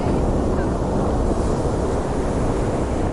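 Strong wind in Northeast Greenland during a storm on a sled journey, a loud continuous roar buffeting close to the microphone without letup.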